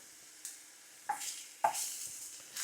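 Minced garlic sautéing in a little avocado oil, a quiet sizzle broken by a few soft scraping stirs of the pan, close and unhurried.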